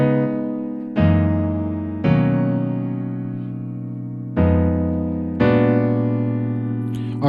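Piano slowly plays the first verse section, five sustained chords struck one by one and left to ring and decay, close and clear with no voices.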